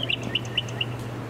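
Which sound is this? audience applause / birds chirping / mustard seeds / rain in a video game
birds chirping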